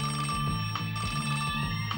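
Telephone ringing in repeated electronic trills, loud and steady through the whole moment with no talking over it.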